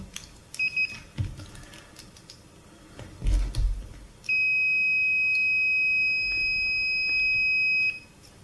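A multimeter checks a cable for continuity, giving a short double beep early on and then one long, steady, clear tone lasting several seconds amid light handling noises.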